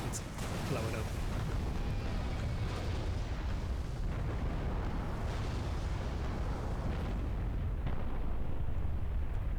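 Frigate ship blowing up in the Halo Reach video game, a sustained roar of heavy explosions and booming blasts with rumbling debris, loud and continuous throughout.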